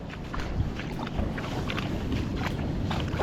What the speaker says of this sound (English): that's the first bit of wind that we've seen come through on this southerly so far